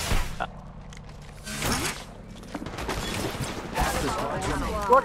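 Gunfire in the mobile battle royale Apex Legends Mobile, scattered bursts of shots and mechanical clatter at moderate distance, with a louder burst near the end amid game effects.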